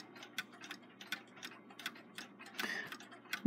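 A Seth Thomas long alarm clock with a semi-deadbeat escapement ticks in a steady, even rhythm, each tick sharp and close, with light mechanical clicks and no voices around it.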